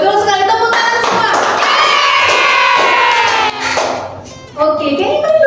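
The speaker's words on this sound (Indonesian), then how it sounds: "tepuk tangan semua" A classroom of students bursts into loud applause mixed with cheering and shouts during a micro-teaching lesson, briefly dipping before picking back up.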